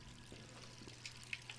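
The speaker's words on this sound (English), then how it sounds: "Has she really left the water running again?" A tap left running in Resident Evil 3 gives a faint, steady pour of water with a low hum beneath it and a few soft drips or clinks near the end.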